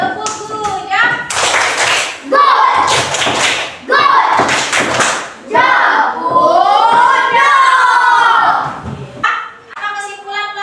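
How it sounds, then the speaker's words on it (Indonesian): A school class claps together in a rhythmic clap chant, bursts of loud, close hand claps alternating with group singing and a teacher's voice in a classroom. "Kita tepuk sama-sama ya."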